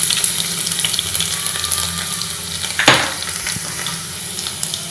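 Crushed garlic sizzles in hot oil for a drumstick leaves dal, a steady close frying hiss with one brief louder stir or scrape near the middle.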